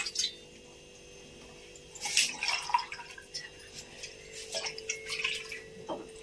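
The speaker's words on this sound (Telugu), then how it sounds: "అలా పెట్టి వాటర్ పోయాలి" Water is poured into a pan to make a tea-powder decoction for a homemade henna hair pack, heard as faint, uneven splashes and trickles close by without talk.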